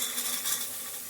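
Tomato tempering for sambar sizzles steadily in a hot pan while being stirred, a close, continuous hiss with faint scraping throughout.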